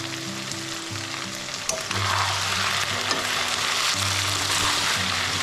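Pepper chicken fries in a pan with a steady crackling sizzle, an occasional stirring scrape and a low hum from the stove running underneath.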